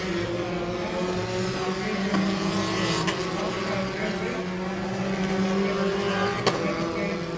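A Formula 4 race car in the 2017 South East Asia Championship drives the final corners of race two, a steady high-pitched engine drone holding constant with brief shifts in tone.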